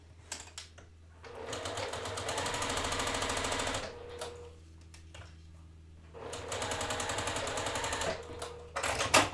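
A sewing machine stitches a quarter-inch seam along the edge of a quilt triangle, running in two steady, rapid bursts of several seconds each with a short pause between, close by and free of talk.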